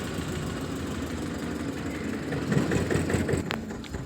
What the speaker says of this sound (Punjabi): ਟਰੈਕਟਰ ਆ ਗਿਆ ਸੀ ਆਵਾਜ਼ ਆ ਰਹੀ ਸੀ ਉਹ